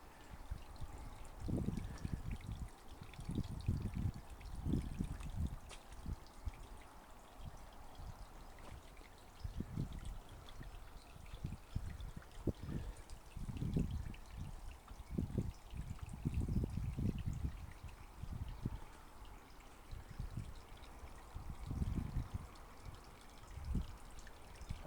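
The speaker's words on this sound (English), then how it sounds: "This is part of a little drainage creek." Water trickles through a small drainage creek in a San Diego neighborhood park, a soft, close burble with faint pulses and splashes that carries on steadily without any voices.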